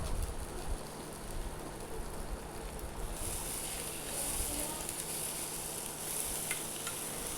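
Potato bhaji with curry leaves and fresh coriander is stirred in a pan, giving a steady, continuous sizzle and soft scraping that stays even throughout with no talking.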